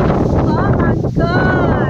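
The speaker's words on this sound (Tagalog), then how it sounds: "Biglaan kasi ang hangin." Sudden gusts of wind batter an outdoor microphone near a farm in Mysen, Norway, a loud continuous low roar that swells and buffets for the whole stretch.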